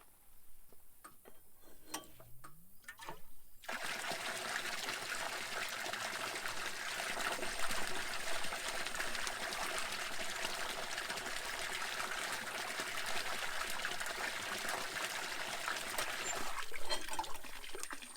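Well water gushes steadily from the outlet of a submerged well pump delivering about 20 gallons a minute, a loud, continuous broadband rush that starts abruptly after a few quiet seconds and runs without pause until near the end.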